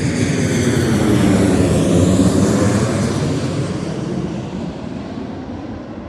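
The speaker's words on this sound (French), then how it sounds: "On est à la ville des avions qui passe sans arrêt." Airplanes pass overhead about 4 km from an airport, a loud, continuous roar of jet engines that swells and then slowly fades, with no other sounds.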